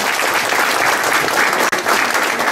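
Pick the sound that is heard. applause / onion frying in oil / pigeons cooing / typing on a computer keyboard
applause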